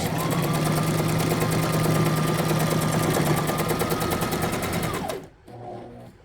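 A sewing machine stitches trouser fabric in a fast, steady run of needle clatter with a motor whine, then stops abruptly near the end, leaving a quiet room.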